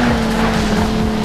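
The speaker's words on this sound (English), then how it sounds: "You're going to want to rev your car up a little bit" A race car engine revs hard at the start line in Need For Speed Shift, a loud, sustained droning roar filling the short moment with no talk.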